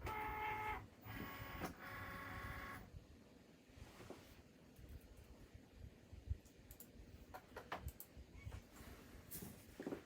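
A Cricut Maker cutting machine slicing heat-transfer vinyl pumpkins, its carriage buzzing and whirring in changing bursts, loud at first and then a steadier mechanical hum with scattered clicks, close by.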